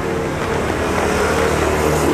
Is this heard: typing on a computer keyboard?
no